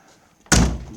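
A truck cabin door slams shut once, a sudden loud thud with a short rattle after a quiet lead-in.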